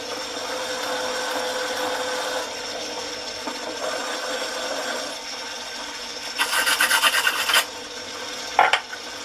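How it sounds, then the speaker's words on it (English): Rifle cartridge brass is deburred on the outside of the case mouth for handloading, giving a continuous close-up scraping rasp that grows brighter and more intense in a short burst, with a small clack near the end. "Just a little deburr on the outside."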